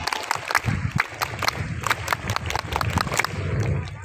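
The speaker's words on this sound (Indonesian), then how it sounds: "Sekali lagi, satu kali tepuk pramuka." Scout troop at a Pramuka training session doing the rhythmic Pramuka clap, a crowd of claps striking in quick patterned bursts with shouting voices mixed through, fairly close and lively.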